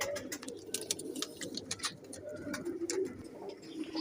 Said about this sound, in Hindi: ये बंद जोड़ के कबूतर है, सख्त जोड़ के।